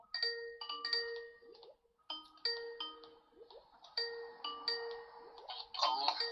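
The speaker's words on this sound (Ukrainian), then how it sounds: "Той в скайпі дзвонить." Skype incoming call ringtone chiming in repeated melodic bursts with short gaps between phrases, moderately quiet and clear, with a faint clatter near the end.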